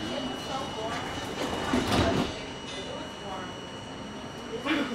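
A local subway train approaching Gates Avenue rumbles with a steady mechanical hum and rushing noise, surging briefly, while a voice murmurs in the background.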